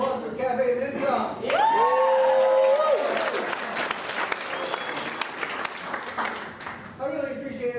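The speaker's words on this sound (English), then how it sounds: "How about a applause for Cafe and then some?" A comedy-show audience breaks into applause and cheering, with a loud whoop rising early, then clapping tapers off while a voice cuts in near the end.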